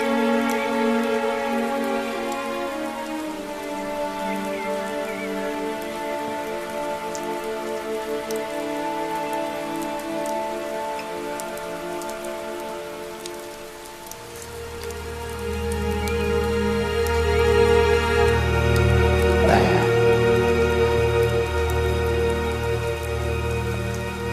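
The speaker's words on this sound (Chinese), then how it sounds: "下雨了" Steady rain patters throughout beneath sustained background music that swells louder partway through.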